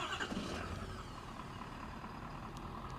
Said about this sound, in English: All you gotta do to start the remote start, you just lock the vehicle and you just tap this button twice,